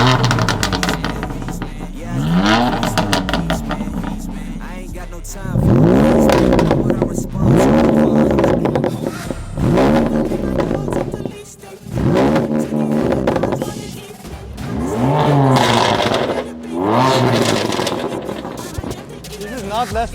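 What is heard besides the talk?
BMW M4 with Akrapovic exhaust revving and accelerating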